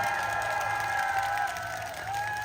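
Sustained applause and cheering from an outdoor concert crowd at a fish-market festival in Masan, Korea, following a trot singer's performance, steady and full throughout with faint crowd voices mixed in.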